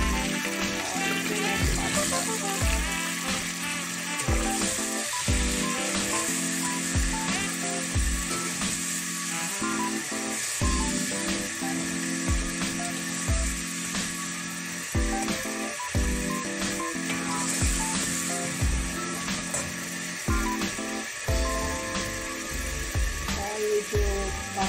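Potatoes sizzle in a pan of lamb curry with ginger, a steady frying hiss broken by regular stirring knocks from a utensil against the pan, close and continuous.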